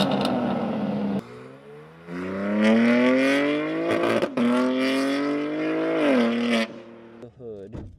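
A BMW G80 M3 with front-mount intakes revs and accelerates loudly up through the gears from inside the cabin, the engine note climbing in pitch before easing off, with a brief clatter near the end.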